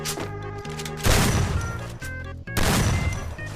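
Shotgun and MP5 fire in a shooter video game, loud bursts of blasts and rapid shots in two clusters separated by brief pauses, with gun-handling clicks and tonal game sounds.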